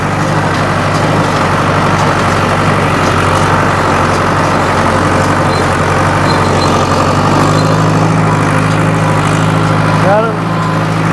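An old tractor-driven hay baler runs at low RPM, a loud steady mechanical drone with engine rumble and rhythmic clatter filling the whole stretch, a brief squeal near the end.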